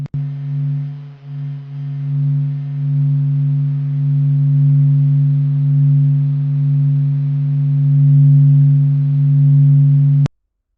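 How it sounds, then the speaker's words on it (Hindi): Solar radio emissions converted into sound form a steady, loud low hum with a faint overtone above it, holding unbroken for about ten seconds before cutting off abruptly. "सभी रेडियो इमिशंस को साउंड वेव्स में बदलकर सूरज की आवाज हमारे कानों तक पहुंचाई"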